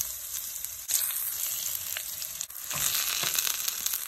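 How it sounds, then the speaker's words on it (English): Fish seasoned with blackening seasoning sears in avocado oil in a hot skillet, giving a steady, close sizzle and crackle with a sharper flare of spattering partway through and no talk. "Now sear your fish."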